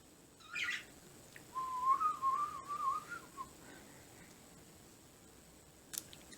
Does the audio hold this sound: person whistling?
yes